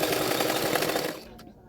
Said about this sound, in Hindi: बेल्ट को भी इसी तरह से रखते हुए एक सिलाई डाल दूंगी